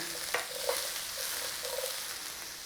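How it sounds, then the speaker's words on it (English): Beef and bell peppers sizzle steadily in a hot stir-fry pan, with a few sharp scrapes and clacks of stirring cutting through the constant close frying hiss; no one speaks. "Just give them a little stir around."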